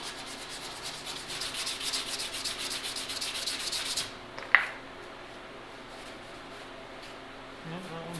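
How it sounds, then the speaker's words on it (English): Primer on a Pontiac GTO fender being sanded by hand, a steady rasping scrub for about four seconds, then a single sharp tap and quiet room tone. "I'm trying not to sand too hard."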